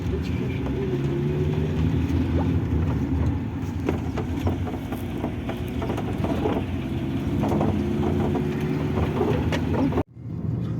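A Peugeot Expert van with a 1.9 turbodiesel engine drives along with a steady low engine drone and road rumble, heard from inside the cab, with people talking over it before a brief drop-out near the end.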